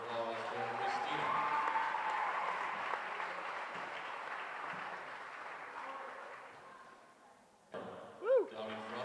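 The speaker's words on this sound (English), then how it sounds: "How about a big round of applause for Christina?" Applause and cheering for a departing girls volleyball player in a school gym, a broad roar of clapping that slowly fades, then a sharp whoop and shout near the end.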